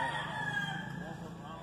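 A Lacy gamefowl rooster on a farm crows in one sustained, fairly distant call, its harmonic voice steady against a low background rumble.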